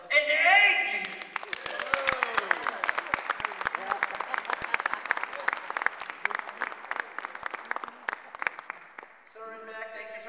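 Audience applause at a vaudeville magic show, a steady wash of many hands clapping that fades toward the end, with a voice briefly audible at the start and close.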